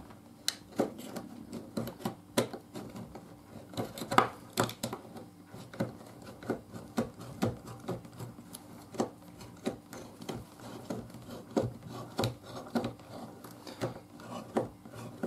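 A Leatherman multitool blade slices open a package, giving a quiet run of short rasping, scraping strokes in an irregular rhythm, close by with no talking.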